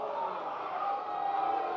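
A baseball crowd at a Reading Fightin Phils vs. Binghamton Rumble Ponies minor-league game groans and grumbles after a strike call. The steady, broad crowd noise is moderately loud, with voices blending into the din.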